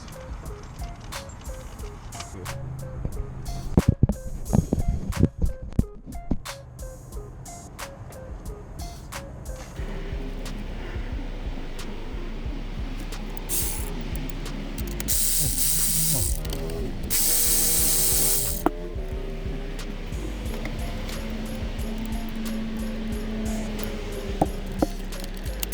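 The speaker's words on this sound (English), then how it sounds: "I'm going to attach the throttle body now" A throttle body goes onto a 1991 Mitsubishi 3000GT with close ratchet clicks and metallic clatter from tools and parts, followed by a longer stretch of steady mechanical hum and a brief hiss.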